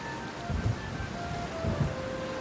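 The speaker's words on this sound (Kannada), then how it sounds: "ನಿರಂತರವಾಗಿ ಬೀಳುತ್ತಿರುವ ಮಳೆಗೆ" Steady rain falls without a break in a Kannada story scene, a soft, even hiss with a few low rumbles mixed in.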